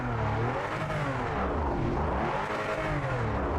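A race car engine in the Project Motor Racing video game drones and revs close and loud, its pitch rising and falling in smooth sweeps with no talk over it.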